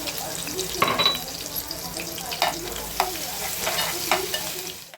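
Mustard seeds, a spoonful of cumin, chopped chili and minced garlic sizzle in hot oil for a Maharashtrian taro dish, a steady close frying hiss broken by stirring scrapes and occasional clinks of a spoon.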